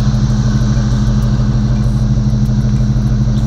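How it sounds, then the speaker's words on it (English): A stock small-block V8 idles in a boxy Chevy, a steady, loud, deep rumble with an even loping pulse that holds for the whole stretch, close by and with no talking. "And this idle sounds so good, bro."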